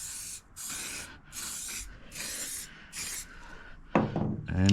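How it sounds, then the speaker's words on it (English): Rust remover sprayed from a bottle in about five close, short hissing bursts at a steady rhythm, followed by a brief voice and a soft knock near the end. "let's spray this on"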